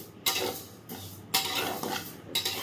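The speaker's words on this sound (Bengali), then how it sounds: "মুগ ডালটা ভাজতে বসিয়েছি" Moong dal being stirred and fried in a pan for khichuri, with three bursts of scraping and rustling from the spoon against the metal over a faint sizzle. No one speaks.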